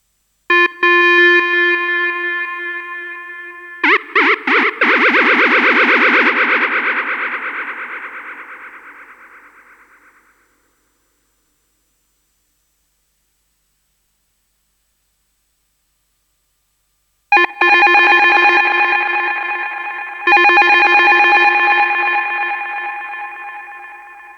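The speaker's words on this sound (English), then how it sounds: "You basically need a square wave and modulate the pitch with a square wave LFO, and then you get this sound." Analog square-wave synth with its pitch modulated by a square-wave LFO, loud buzzy tones flipping between two pitches, with a stuttering burst and a long fade, then silence before the pattern returns, used in 90s speed garage.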